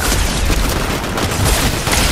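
Dense, loud bursts of gunfire in a Fortnite match, a steady barrage of shots and booms filling the whole stretch with no break.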